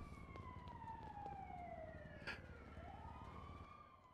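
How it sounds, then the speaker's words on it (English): An ambulance siren in a roleplay video game wails in sweeping rising and falling tones, heard quietly and steadily throughout with a brief sharper burst partway through, and no voices. "Wait, that's the ambulance."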